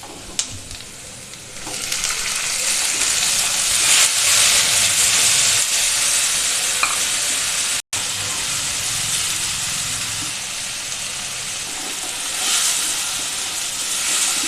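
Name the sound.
tomatoes frying and being stirred in a pan for baigana bhartta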